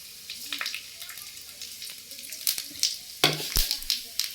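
Dried red chillies, slit down the middle, and whole cumin seeds sizzle in hot oil, a close, bright crackling hiss with sharp pops and spits that grow louder near the end.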